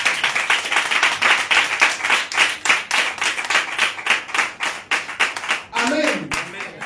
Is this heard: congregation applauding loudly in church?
yes